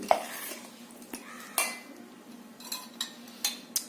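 Sesame oil being stirred into sesame avakaya pickle with a spoon, giving a series of close, light clinks and scrapes against the dish at an irregular rhythm, with no talking.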